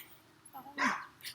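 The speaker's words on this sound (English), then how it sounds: "They're dogs. They bark." A dog barks outdoors in a short burst, a loud yelp-like bark standing out after faint background murmur, with a second softer bark trailing at the end.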